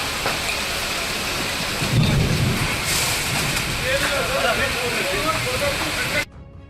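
Heavy rain pours steadily during a thunderstorm in Bengaluru, a dense, loud, continuous wash of downpour with a brief low swell of thunder near the start before it cuts off abruptly.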